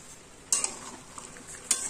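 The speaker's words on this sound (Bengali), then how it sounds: "এবার এটাকে আমি নাড়বো" Pumpkin shoots sizzle gently in a pan while a spatula stirs them, with two sharp metallic clanks against the pan and softer scrapes in between, close and without speech.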